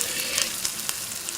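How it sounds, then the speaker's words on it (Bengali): Masala paste sizzling and frying in oil while being stirred, with water added, a steady crackling hiss with soft scraping touches of the spoon, close and alone. "জল অ্যাড করে আমরা নাড়াচাড়া করতে করতে মশলাটিকে খুব সুন্দরভাবে পাকিয়ে নেব"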